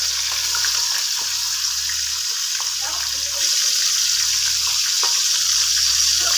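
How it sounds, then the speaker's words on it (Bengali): Chicken pieces frying in hot oil in a kadai, a steady bright hiss and sizzle running loud and unbroken throughout, with faint clicks and no talk. "হালকা লাল করে মুরগিগুলো ভেজে নিব"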